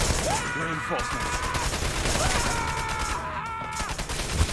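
Gunfire in the shooter game Wanted: Dead, with rapid bursts of automatic shots crackling throughout over a busy game mix, beside whistling, rising tonal effects and a voice heard faintly.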